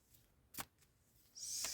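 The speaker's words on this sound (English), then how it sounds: "So let's give these a shuffle and see what the week has in store for you." A deck of tarot cards is shuffled in a short, soft riffle: a single quick card flick, then a brief papery burst of shuffling, quiet and close.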